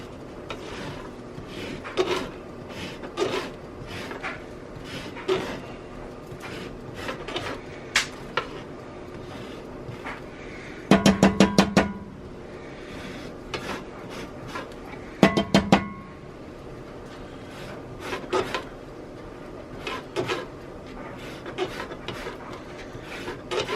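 A lemon being zested on a microplane, heard as close, repeated short rasping strokes with a few louder bursts of rapid scraping.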